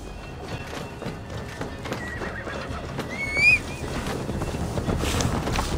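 A horse whinnies once in Assassin's Creed Valhalla, a rising shrill neigh midway through, over a steady bed of clip-clopping hooves and wind, fairly close and clear without speech.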